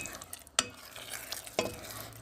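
Chicken hearts stirred and fried in spiced masala in a pan, with a steady sizzle and two sharp scrapes of the spoon.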